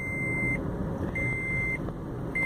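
An electronic beep sounds in repeated, evenly spaced tones over a low rumbling background, three beeps in a row.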